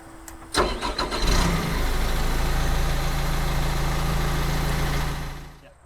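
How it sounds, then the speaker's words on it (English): The diesel engine of a Terex Achiever TC-55 tracked aerial lift cranks briefly, then catches and settles into a steady, close idle that holds for several seconds before fading. "now that the gauges are on, we can start the engine"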